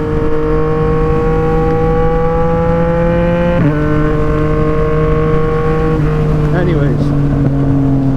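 Yamaha MT-09 motorcycle riding on the road with a brand-new front tire, its engine giving a steady loud drone with a gear-shift dip partway through, then holding at a lower pitch under wind noise.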